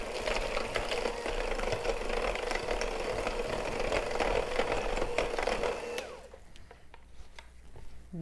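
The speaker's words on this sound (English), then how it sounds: "Next thing we're gonna add in is 1 egg. I'm gonna give that a quick mix." An electric mixer beats an egg into batter with a steady, close motor whir for about six seconds, then cuts off, leaving a few faint clinks and a quiet room.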